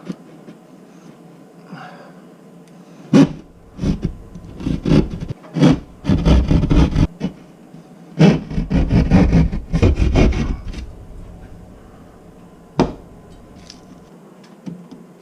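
Cutting a small section out of a wall produces a series of harsh rasping, scraping bursts of varying length, close and loud, with short quiet gaps between strokes.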